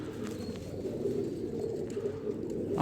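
Pigeons coo softly and continuously in a close loft, a low murmuring layer with steady ambient noise and no clear speech.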